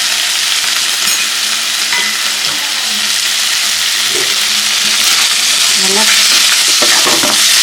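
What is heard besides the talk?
mutton pepper fry sizzling and stirred in pan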